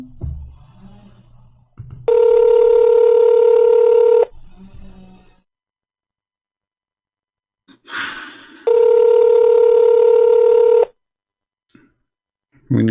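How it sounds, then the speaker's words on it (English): Telephone redialing: two long bursts of steady electronic dial tones, each about two seconds, separated by a quiet gap, with brief speech and breaths at the start and between. "Let me call you again."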